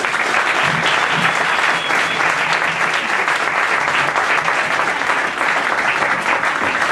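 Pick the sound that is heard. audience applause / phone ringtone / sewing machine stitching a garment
audience applause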